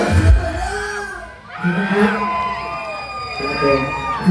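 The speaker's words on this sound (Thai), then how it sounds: "คุณเสียงปรบมือเสียงกรี๊ด" An audience at a couples' contest at a Thai temple fair in Samut Prakan claps and screams in loud, continuous waves, with a voice carrying over the crowd.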